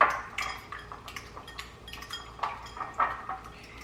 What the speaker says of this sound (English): crack open the yolk, and then I just whisk it with a fork